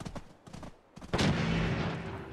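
Fallout 4 gunfire: a few scattered shots followed by a loud, sustained burst of rapid fire that rolls on continuously, with no talking.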